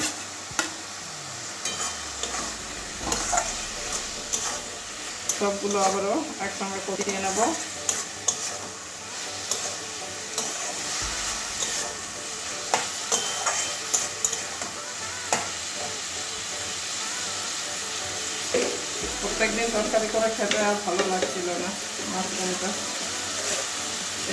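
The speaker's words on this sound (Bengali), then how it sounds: "তিন চার মিনিট ভালোভাবে কষিয়ে নিয়েছি" Mushrooms are sautéed with fried carrots and potatoes in a pan for mushroom chorchori, with steady scraping stirs over a continuous close sizzle and a voice speaking briefly now and then.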